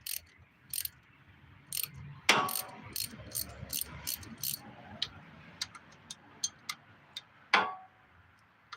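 A bolt is unscrewed with a ratchet, giving a series of sharp, close clicks in uneven bursts, with a few louder metallic clanks between them.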